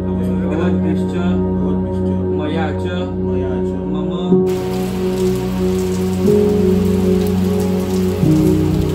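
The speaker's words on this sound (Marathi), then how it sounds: "समोर पाऊस पडतोय" Rain patters steadily in the background while a person speaks over it, close and clear.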